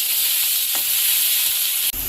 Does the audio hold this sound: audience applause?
no